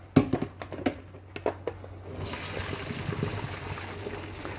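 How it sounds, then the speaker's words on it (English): A few clinks and knocks of a pot, then a steady gush of water pouring and draining as boiled broccoli is strained, continuing without a break. "I'm going to take my broccoli, which I said is just beginning to boil, and I'm going to strain it"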